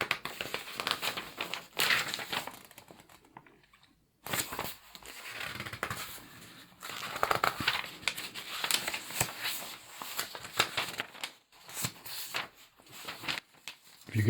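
Paper pages of a vintage TV guide are handled close up, with soft crinkling, rustling and page turns continuing throughout, pausing briefly twice.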